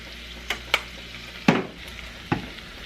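Raw garlic sautés in a pan with pepper while a pork loin is prepared, a faint low sizzle punctuated by four sharp stirring scrapes, the loudest near the middle.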